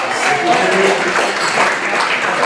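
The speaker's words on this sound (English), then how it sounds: "A big round of applause." Applause from the audience at an in-home support services educational forum in an Elks lodge hall, a steady dense wash of clapping held for a couple of seconds with faint voices mixed in.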